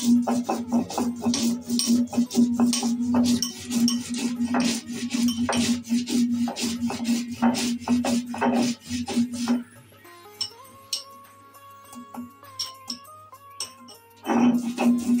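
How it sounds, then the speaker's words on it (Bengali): Black and white mustard seeds are ground together on a grinding stone in rapid, rhythmic back-and-forth rasping strokes, close and steady. Midway they pause under a stretch of tonal sound, then resume. "এবার কালো সর্ষে আর সাদা সর্ষে একসঙ্গে বেটে নেব।"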